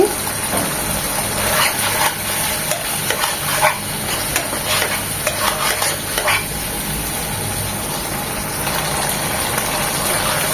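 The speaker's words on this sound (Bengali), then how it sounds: "আমাদের সব কিছু মশলা সব উপকরণ এখন কত সুন্দরভাবে কষানো হয়ে গিয়েছে" Spices and ingredients for a hilsa fish korma, with slit green chillies, sizzle and sputter steadily in a hot pan while being stirred and sautéed, a continuous close frying hiss with scraping strokes throughout.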